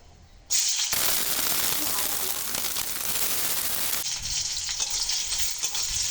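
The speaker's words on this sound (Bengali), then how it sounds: "এখন কয়টা কাঁচা পেঁয়াজ, গোটা রসুন আর কাঁচা ঝাল একটুখানি ভেজে নেব।" Raw onions, whole garlic and green chilies hit hot oil in a wok, bursting into a loud, steady sizzle that holds evenly for several seconds after a brief quiet start.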